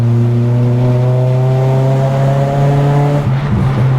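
Close, loud engine note from a Nissan Pulsar SSS on a winding road, holding a steady rising drone as the car accelerates, then easing off into a brief rougher patch at the end.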